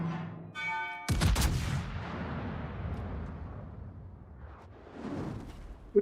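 Armor-piercing shell fire in the naval game World of Warships, a sudden loud boom followed by a long, rolling decay, then a softer second rumble and a sharp tick at the end.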